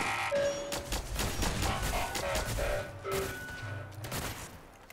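A modded gun fires at enemies in Fallout 4, producing a dense, continuous volley of shots and crackling impacts that stays loud and busy for the whole stretch.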